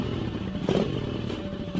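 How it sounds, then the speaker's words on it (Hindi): A motorcycle engine runs as a sound effect in a spoken horror story: a loud, steady, rough engine drone with a brief clattering surge partway through. "उसने जाकर बाइक स्टार्ट की।"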